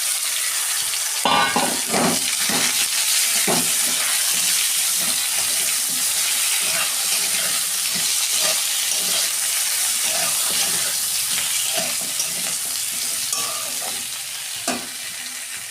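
Mixed vegetables fry with ginger in a pan, making a loud, continuous hissing sizzle close up, broken by repeated scraping and stirring clatters.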